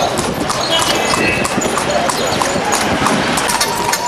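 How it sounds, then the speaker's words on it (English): Horse-drawn carriage hooves clip-clop in a steady rhythm on a buggy ride in Bomani, south of Luxor, Egypt, with people talking over the continuous, fairly close hoofbeats. "we are buggy riding, or you can call it horse and carriage riding"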